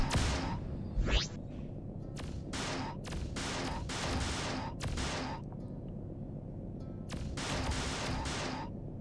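Missiles and weapons fire in the space combat game Freelancer, with rapid repeated bursts and a rising whoosh over a constant engine hum.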